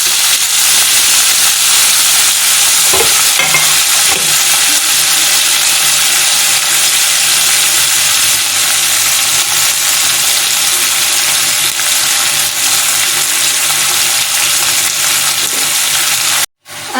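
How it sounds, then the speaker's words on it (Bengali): Chopped onions hit hot oil for a mutton curry and fry with a loud, steady hiss and sizzle that carries on evenly, with a couple of soft stirring knocks early and no talking. "এখন আমি যে কোচানো পেঁয়াজগুলো কুচিয়ে রেখেছিলাম এর মধ্যে সব ঢেলে দিচ্ছি।"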